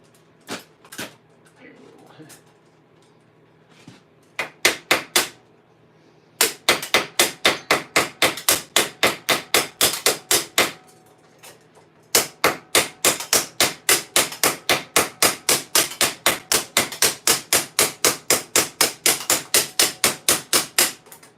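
A new rivet is hammered into a half gauntlet of armour with sharp, close metallic strikes. A few scattered taps come first, then long runs of rapid, evenly spaced blows with only a short pause between them.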